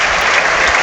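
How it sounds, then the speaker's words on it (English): Football crowd at the City Ground applauding a substituted player leaving the pitch late in a Premier League match, a loud, dense, continuous wash of clapping filling the short moment. "listen to the applause for Aina as he makes his way off the field"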